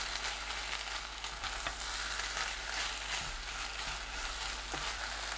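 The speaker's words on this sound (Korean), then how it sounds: "달군 팬에 다진 돼지고기 400g 넣고 센 불로 2분 볶습니다." Minced pork, 400 g, stir-frying over high heat in a preheated pan, a dense crackling sizzle with occasional spatula knocks and scrapes, close and steady.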